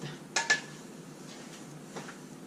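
A few quick clinks and scrapes of a utensil against a pan as scrambled eggs and a little bacon are served onto a plate, two sharp knocks early and a softer tap later over quiet background.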